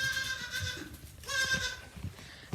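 Baby goat on a farm bleating, with two clear wavering calls, the second louder, over faint background farm noise.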